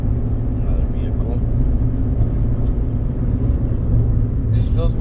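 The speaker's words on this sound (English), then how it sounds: "Another vehicle." A road vehicle passes at night with a steady low engine rumble and tire roar throughout, fairly loud and close, with a faint voice nearby.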